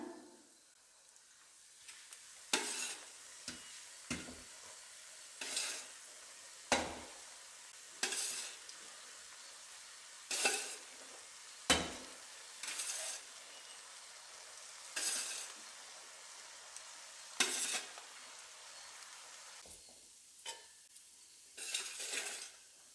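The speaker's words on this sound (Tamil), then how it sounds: "இந்த ரைஸை போட்டு கலக்கிடுறேங்க நான்." Cooked rice is stirred into fried beans, carrot and onion shoots in a pan for spring onion veg fried rice: a soft background hiss with a steady series of loud, close scraping stirs every second or two.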